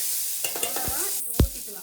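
Curry leaves go into hot oil already holding mustard seeds and crushed lump asafoetida for a cold-remedy rasam, giving a brief sputtering crackle and clink of stirring, with a sharp pop near the end.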